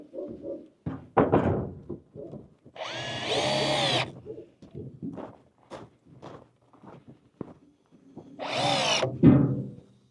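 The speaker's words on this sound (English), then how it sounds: "And you're going to work the drill." Short bursts of a power drill whirring, two longer runs among thuds, knocks and shuffling sounds close by.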